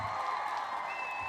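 Applause from a soundboard plays as a short, steady burst of crowd clapping at moderate level with no voices over it.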